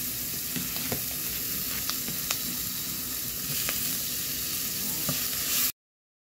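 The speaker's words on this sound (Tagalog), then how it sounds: "I-fry lang natin siya guys hanggang sa mag-brown konti." Onions fry in a pan, giving a steady, close sizzle with scattered small pops and crackles before the sound cuts off abruptly.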